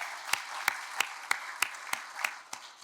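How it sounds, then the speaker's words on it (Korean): A church congregation at a Christmas candlelight service claps in slow, steady unison, about three beats per second, faint and even throughout. "저 하나님께 영광의 박수 드리겠습니다."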